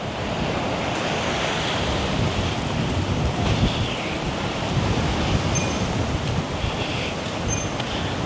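Surf washes steadily onto the beach at Sindhu, Sanur, Bali, a continuous broadband roar with wind buffeting the microphone throughout.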